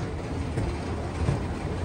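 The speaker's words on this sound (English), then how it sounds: "But I'm going to catch the train." A continuous low rumble of a subway train rolling past at Ottawa's Hurdman station, dense and steady, with faint rattling in the background.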